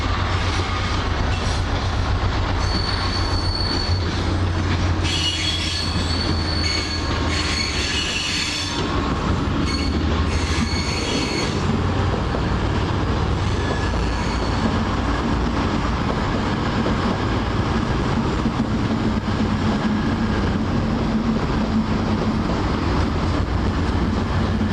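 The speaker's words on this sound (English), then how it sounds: "What about that? 3 freight locos in one shot." Three freight locomotives rolling through Leicester together, a loud continuous rumble of heavy wheels with squealing and clattering rail noise throughout, close by and with no talk.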